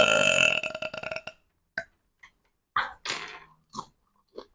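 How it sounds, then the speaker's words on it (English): A person lets out a loud, drawn-out, throaty burp up close, followed by several short, sharp gulping and clicking mouth noises separated by silence. "That's burp 1 for me."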